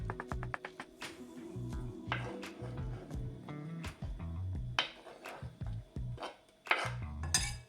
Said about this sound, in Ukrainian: нарізаю яйця кубиками і викладаю в миску чи салатник